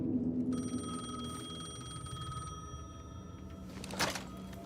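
A payphone rings in the video game Alan Wake 2 with a sustained electronic tone that holds for several seconds, while a low ambient drone runs underneath and a brief burst of noise near the end.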